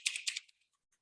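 Quick burst of typing on a computer keyboard while working in 3D software, a few close, crisp key clicks over about half a second, then quiet.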